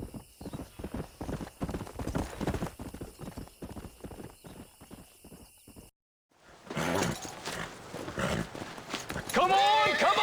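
Horse hooves clip-clopping at a steady trot in the Red Dead Redemption video game, close and rhythmic, then a brief silence before busier game sounds with voices and a whinny-like cry near the end.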